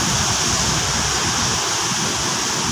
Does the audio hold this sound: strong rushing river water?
yes